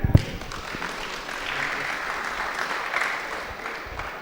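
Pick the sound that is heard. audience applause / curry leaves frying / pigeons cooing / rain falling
audience applause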